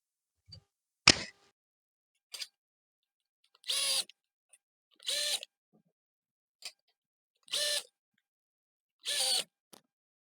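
A steel MB-4 enclosure with 1 mm thick panels is screwed together, its top cover fastened last, with a sharp clack and then a series of short, evenly spaced ratcheting bursts from the driver, close and in quiet surroundings.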